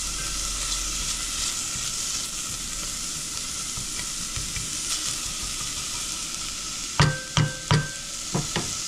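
Chopped onion sweating and sizzling in a pan for stuffed peppers with ground beef and quinoa: a steady, close frying hiss throughout, broken near the end by a few sharp knocks and scrapes of stirring.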